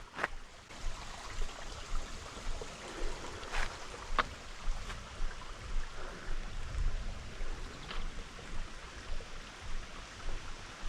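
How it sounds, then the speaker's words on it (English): Water trickles and burbles over rocks in a steady outdoor flow, with occasional faint clicks and knocks. "Still getting a nice little flow and trickle with the sounds of the water over the rocks."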